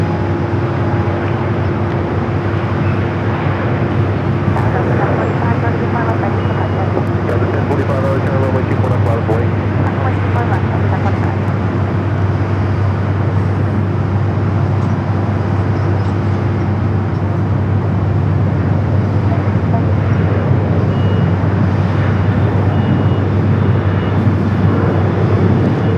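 A United Airbus A321neo at LAX airport, a loud continuous jet engine roar with a steady low drone and a sustained tone, unbroken throughout, close and heavy.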